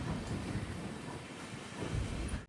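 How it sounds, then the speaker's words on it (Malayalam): The Gomteshwara Express pulls into Bantwal railway station during the monsoon, a steady broadband rumble and rush of wind that carries on without pause, fairly faint and with no voices. "ട്രെയിൻ ഇപ്പോൾ ബണ്ട്വാൾ റെയിൽവേ സ്റ്റേഷനിലേക്ക് ഇതാ എത്തുകയാണ്."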